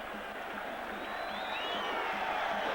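A stadium crowd at a Romania vs Macedonia World Cup qualifying football match applauds and cheers, a steady distant roar of clapping and whoops building slightly louder over the few seconds.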